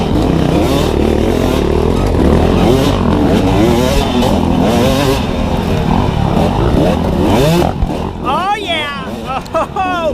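A dirt bike engine revs hard and continuously under throttle through wooded terrain during a GNCC pro race, loud and close with rising and falling pitch; a rider's brief exclamation breaks in near the end.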